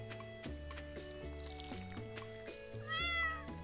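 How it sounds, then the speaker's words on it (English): Short meow from a pet cat in the farming game Stardew Valley, rising near the end of the moment, over steady layered background music with water pouring for the animal. "I gotta go give kitty some water."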